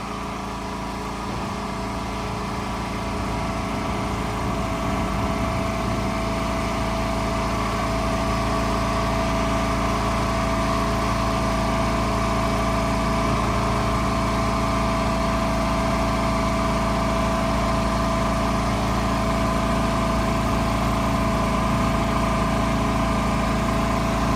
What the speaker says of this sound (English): Now we're going to continue to raise the trailer up to our appropriate ride height.